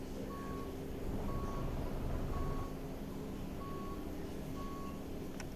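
A truck's reversing alarm beeps in a steady, evenly spaced series over the low rumble of the idling engine as the vehicle turns at a factory.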